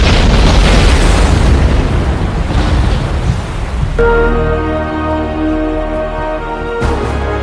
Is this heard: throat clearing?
no